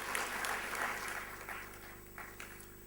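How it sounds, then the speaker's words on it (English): Audience applause at a marketing conference, a steady wash of many hands clapping at moderate distance that gradually thins and fades over a few seconds. "So a big round of applause to our supporters and our sponsors."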